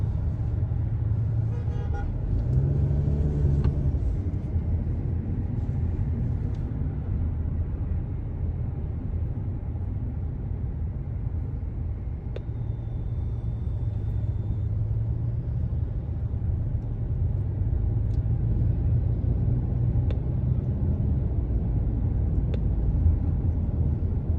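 Road traffic on a California highway during a slow-moving convoy heading to Placerville: a steady low engine and tire rumble throughout, with occasional horn toots rising above it.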